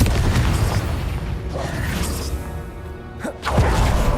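Bombarda and Confringo spell blasts in Hogwarts Legacy, with loud crashing impacts and rumbling bursts over a dense mechanical background and a sharp smash near the end.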